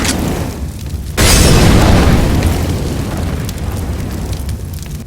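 A Molotov fire grenade is thrown in CS:GO on the Cache map: after a quiet second, a loud sudden whoosh of flames bursts out and settles into a sustained roaring crackle of fire.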